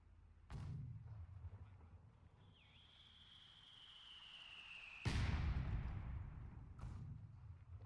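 Mortar fire in a WWII battle for Caen video game: several sharp, loud blasts ring out a few seconds apart, with a rising whistle before the largest impact and a low, rumbling battlefield din between them.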